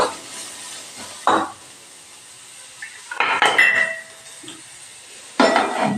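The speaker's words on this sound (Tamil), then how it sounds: "வெங்காயம் கொஞ்சம் வேகட்டும்." Onions being stirred in a pan in a home kitchen, heard as bursts of metallic scraping and clinking of a utensil against the pan at intervals, with a faint frying sizzle between the louder strokes.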